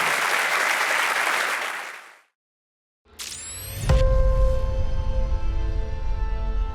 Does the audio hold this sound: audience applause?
yes